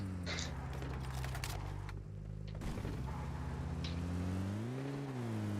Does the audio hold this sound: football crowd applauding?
no